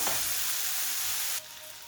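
Fried aubergine, cauliflower and potato pieces sizzle loudly in a hot pan as they are stirred together, a dense continuous frying hiss that drops to a quieter sizzle partway through.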